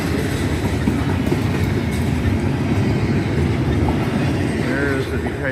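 A short CSX freight train with two engines rolls past the Decatur, Georgia depot, its loud, steady rumble and wheel clatter filling the whole span, with faint squeals near the end.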